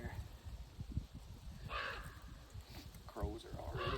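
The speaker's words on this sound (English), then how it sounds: "Crows are already singing." Crows caw a few times at a distance outdoors in the woods during deer field dressing, harsh calls rising over rustling and handling noise.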